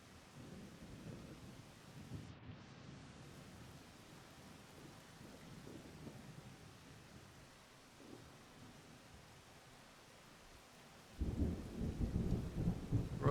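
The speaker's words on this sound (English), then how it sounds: "Into the stormy rain." Stormy rain in the video game Rain World gives a steady hiss, with low rumbles of thunder rolling throughout and a heavier, louder surge of rain and thunder toward the end.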